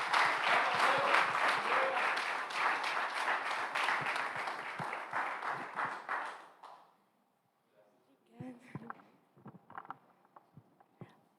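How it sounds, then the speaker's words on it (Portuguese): A church congregation at a Sunday family service claps together in loud, sustained applause for about six seconds, then fades to sparse, quieter sounds and faint movement in the hall. "as palmas louvam o Senhor"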